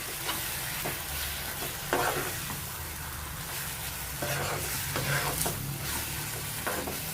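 Grated raw mango pickle fries in oil while a spoon scrapes and stirs it, a steady close sizzle broken by repeated scraping strokes.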